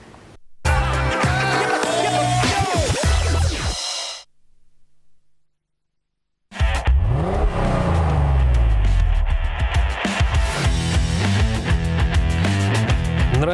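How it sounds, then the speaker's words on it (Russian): Car engine revving and roaring in a driving school radio advert, loud with music, cutting out for about two seconds midway before returning. "Нравится рев мотора"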